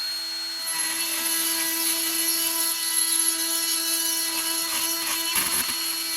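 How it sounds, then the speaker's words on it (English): A grinder with a slightly wider bit cuts a thumb recess into a flat-end steel guitar bullet bar, giving a steady, loud high-pitched whine that holds throughout with brief rougher scraping near the end. "I changed the bit with a different grinder"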